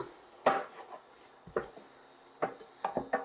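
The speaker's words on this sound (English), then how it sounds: "we're just going to sprinkle it over the pan and stir it in" Onions being stirred in a pan as a seasoning is mixed in to coat them, giving a few separate scraping and clinking knocks of utensil against pan with quiet gaps between, fairly close.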